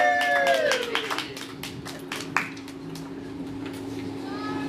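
A small audience at It's A Grind coffee house claps for a performer arriving for a concert, scattered hand claps with a whistle at the start that trail off quickly into a quieter room.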